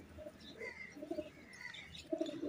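Soft, low coos of an Indian pigeon at dusk repeat in short murmuring phrases, faint and close, with quiet chirps and background hiss.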